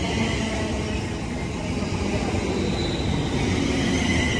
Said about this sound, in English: here comes the 1201 London North Western Road service to London Euston